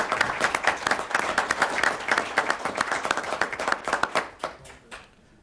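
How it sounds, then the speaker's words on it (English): Audience at a Cornwall city council meeting applauds community ambassadors, a steady round of hand clapping from a modest crowd that carries for several seconds before tapering off into scattered final claps. "maybe we give a round of applause to these ambassadors."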